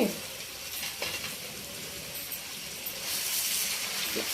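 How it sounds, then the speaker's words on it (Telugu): Ponnaganti greens and onions fry in a pan over a low flame, giving a steady close sizzle and hiss that swells slightly near the end, with no talking. "బాగా ఫ్రై చేసుకోవాలి సన్న మంట మీద చక్కగా ఫ్రై చేసుకుంటే ఫ్రై అయ్యిద్ది"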